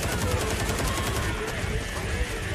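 Rapid automatic turret gunfire in a video game, a dense continuous burst of shots filling the whole moment, with no talk over it.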